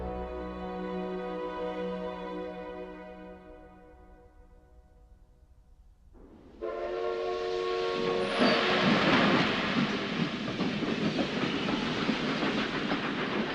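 A train pulls away and rolls along the rails in Philadelphia, its tonal hum giving way to loud, steady rumbling and clatter that builds and stays close.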